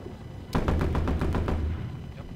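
A shotgun fires in the Black Ops 3 video game: about seven loud, rapid blasts in a quick burst, then a fading echo.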